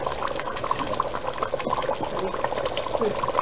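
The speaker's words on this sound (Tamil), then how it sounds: "ஸோ பாருங்கள் இப்போ வந்து தண்ணி ஊற்ற போகிறேன்" Water pours steadily into a pot of mutton biryani with a bubbling, splashing texture, close and moderately loud for a few seconds.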